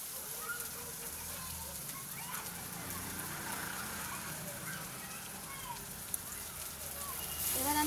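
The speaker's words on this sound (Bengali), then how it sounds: "এবার আমি একটু ভেজে নেবো, কষা কষা করে নেবো" Tomato with salt, green chilli and dried red chilli frying in a pan, a continuous crackling sizzle that rises toward the end, with no speech.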